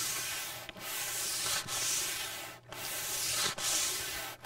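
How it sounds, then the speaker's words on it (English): A long block with 120 grit sandpaper is pushed across a car body panel in five long, even sweeping strokes, each a rasping rub separated by brief pauses, close and fairly quiet with no talking. "This is a standard long block. I'm going to be using 120 grit sandpaper for this."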